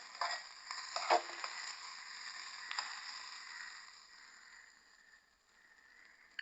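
Onions frying in a pan as they are stirred while cooking okra fry, giving a soft steady sizzle with a few sharp utensil scrapes and clinks near the start.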